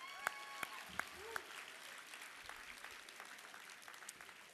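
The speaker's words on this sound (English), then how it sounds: "Let's give our guest speakers a round of applause." Faint, thin applause from the audience for guest speakers at a Volunteer Florida and AmeriCorps 20th anniversary program, with a few sharper claps near the start before it settles into a soft, steady patter.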